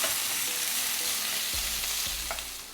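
Garlic, half an onion and a tomato fry in a pan with a steady, close sizzle, and a few stirring knocks sound near the end.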